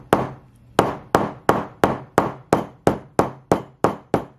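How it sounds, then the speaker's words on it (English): A small hammer flattens a glued upholstery edge on a DIY chair with about a dozen sharp, evenly spaced taps, each ringing briefly before the next. The blows come close and clear with no talk. "you can just take a little hammer and just hammer it"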